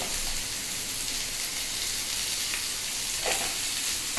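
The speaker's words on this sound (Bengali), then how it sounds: "এবার ভালো করে একটু ভেজে নিই" Green chillies and carrot fry in a pan for a vegetable moong dal, making a dense, even, close-up hiss of sizzling oil with a brief faint stir near the end.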